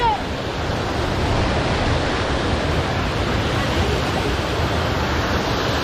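Forceful water from a waterfall near Ukkadam in Coimbatore pours down in a steady, loud, broadband roar that stays constant throughout, with some wind buffeting on the microphone.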